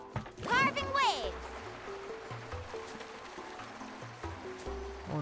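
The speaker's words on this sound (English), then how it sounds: "Carving waves." A surfboard carves across waves in Genshin Impact, a swooshing gliding rush of water with a rising whoosh near the start over a steady bed of game water ambience and soft background music tones.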